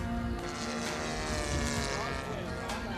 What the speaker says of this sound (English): the aircraft looks great in the air. Not to mention the sweet sound of the engine.